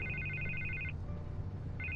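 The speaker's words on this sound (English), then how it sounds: "I can't get the phone to stop ringing." A telephone rings in Batman: The Telltale Series, a bright electronic double trill repeating for about a second, pausing, then starting again, with no talking over it.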